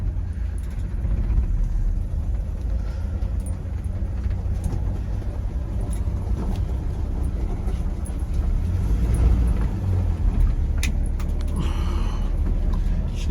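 1951 GMC truck engine running in first gear, a loud continuous low rumble with steady mechanical drone, close and unbroken for the whole stretch.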